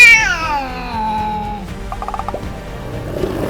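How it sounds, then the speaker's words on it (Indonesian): A small cat gives a long, drawn-out meow that falls in pitch, followed by softer short chirps and faint shuffling, close and clear with no talking. "Sedangkan kucing kecil, ya tentu saja hanya bisa mengeong."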